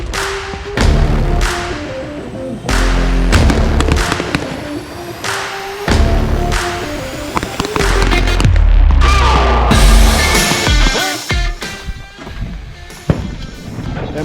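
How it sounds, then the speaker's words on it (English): Pistol shots fired at a target in a rifle training drill: a rapid series of loud, sharp reports close by, coming in quick bursts with short pauses between them. "charge the target for 3 rounds with your pistols in them"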